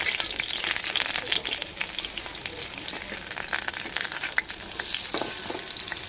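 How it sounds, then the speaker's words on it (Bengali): Dal paturi wrapped in pumpkin leaves fries in hot oil, giving a steady, dense sizzle with crackling pops throughout, close and continuous with no talk. "তেল লাগলে পুরো পাতুরিগুলো ভাজা হয়ে আসে"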